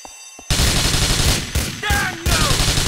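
Rapid bursts of automatic gunfire erupt in GTA IV, loud and dense, broken by short pauses and a few whistling ricochets, continuing in heavy volleys.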